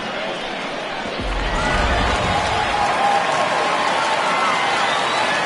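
A home crowd at a baseball game cheers after a home run, a sustained roar of voices and applause that swells and holds while commentary runs over it.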